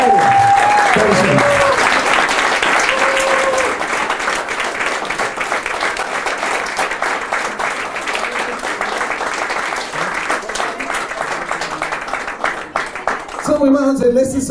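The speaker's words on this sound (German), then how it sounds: "Ein großer Applaus für Sie." A crowd applauds at a Christmas concert, loud sustained clapping rolling on for over ten seconds and slowly thinning, with a voice speaking over it at the start and again as it fades out.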